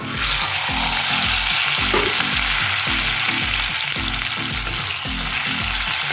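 Onions fry in a pan while being stirred, a dense close sizzle overlaid with a steady rhythm of spatula scrapes repeating every half second or so, with no talking.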